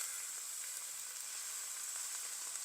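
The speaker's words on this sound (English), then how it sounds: "And when it hits the pan, you're going to hear a nice sizzle." Boneless skinless chicken breast sizzles steadily in olive oil in a hot pan, a constant bright crackling hiss with tiny pops, close and even throughout with no voices.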